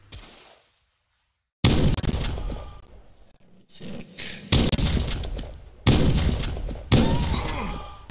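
Shotgun blasts from the video game Bloom, several loud, booming bursts at irregular intervals after a short quiet gap, each with a ragged decay, close and dominant.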